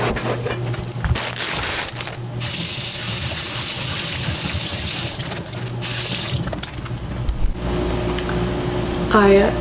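A kitchen sink faucet runs with a steady gushing stream as dishes are loaded, with clinks and clatter of dishware and pauses where the flow stops and starts.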